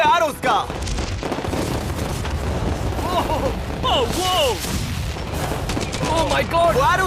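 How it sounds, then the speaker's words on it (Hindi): Crowds of flaming arrows launched at a yacht in a large outdoor challenge, heard as a dense barrage of sharp cracks and booms with whooshing streaks, loud and continuous, with excited voices shouting over it. "वक्त है पूरे 1000 जलते हुए एरोस का।"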